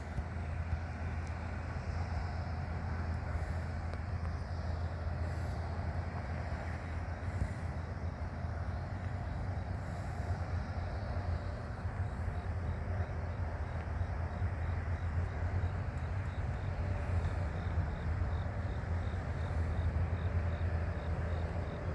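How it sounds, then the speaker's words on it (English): A southbound CN oil train hauled by ET44AC, SD70M-2 and ES44DC diesel locomotives gives off a low, steady rumble that stays even and fairly distant. "Meet this second southbound train right now."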